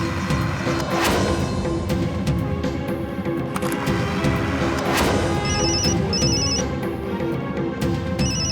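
A telephone rings in an indoor scene from a Hindi TV serial. Short, high, repeating ring bursts sit over dense, loud background sound, growing clearer toward the end.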